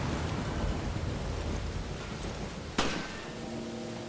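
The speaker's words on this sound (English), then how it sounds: "this rain effect is actually really nice" Steady rain hisses in the video game Resident Evil Revelations, a dense continuous wash with one sharp crack near the end, with no voices.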